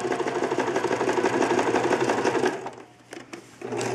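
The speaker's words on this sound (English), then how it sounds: "it just went right through everything. Sewing machines are made to do that." Sewing machine running steadily as it stitches through the layers of a lined zipper bag, a loud continuous whirring hum close by that slows and pauses briefly near the end before starting again.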